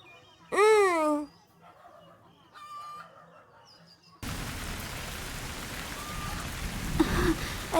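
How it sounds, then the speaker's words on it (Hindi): A rooster crows loudly at first, followed by a faint bird call, then steady rain suddenly starts and falls continuously, a dense hiss of drops on surfaces through the second half. "अरे बारिश हो रही है"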